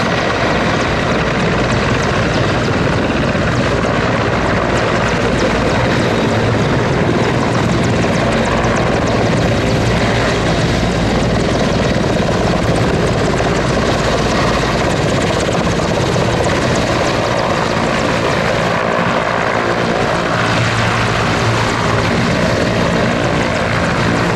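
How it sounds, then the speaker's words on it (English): Czech Air Force Mil Mi-35 and Mi-171SH military helicopters coming in to land at an airshow, a loud, steady rotor and turbine roar that holds throughout with no speech. "The Mill Mi-35 and the Mi-171SH of the Czech Air Force."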